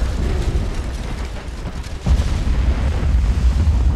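Torpedo strikes on a warship in the naval game Ultimate Admiral: Dreadnoughts, heavy rumbling explosions with a deep boom swelling midway, continuous low roar throughout and no voices.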